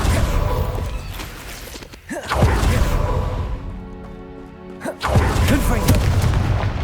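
A Confringo spell explodes in the video game Hogwarts Legacy: loud, deep booming blasts with a whooshing swell, sounding over a dense, continuous battle din.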